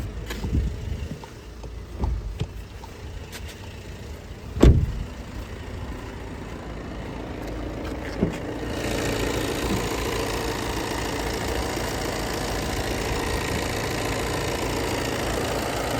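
A Volkswagen Tiguan Allspace engine idles in the open engine bay with a steady mechanical hum, a few knocks and clicks early on, then a louder, fuller running sound.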